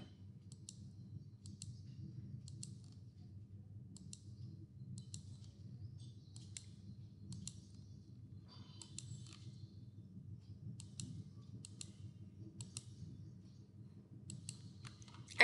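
Sharp, faint mouse clicks come at irregular intervals over a steady low hum, with no one speaking, while drawing curved walls in DIALux evo.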